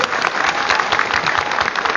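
Sustained applause from the guests at a wedding contest held in France, a dense continuous patter of clapping filling the whole stretch at steady, fairly loud level.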